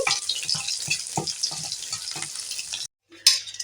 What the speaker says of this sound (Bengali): রসুনকে চার পাঁচ টুকরো রসুনকে আমি ভেজে নেব